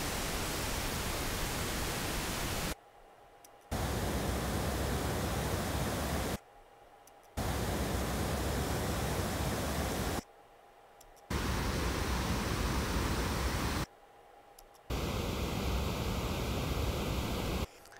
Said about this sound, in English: First the pink noise, raw electrical noise